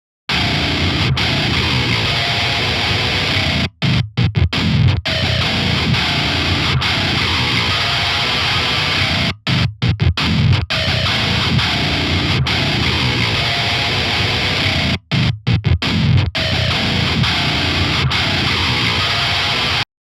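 Heavily distorted, pitched electric guitar played without an EQ boost pedal, a dense, saturated wall of chugging riffs that runs loud and continuous, broken by a few abrupt silent stops.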